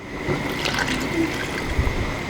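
Sumac water being strained into a cooking pot for an eggplant dish, a steady close trickle and gurgle of liquid pouring continuously throughout.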